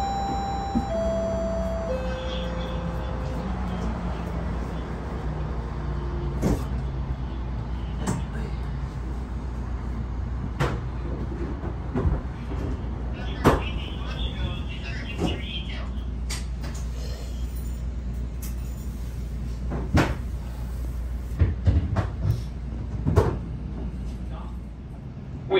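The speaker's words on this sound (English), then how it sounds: "Please stand clear of the doors. The doors are now closing." Doors of a GO Transit commuter train near Whitby and Oshawa slide shut with thuds and clunks amid steady rumbling carriage noise, while a recorded announcement and other voices speak over it.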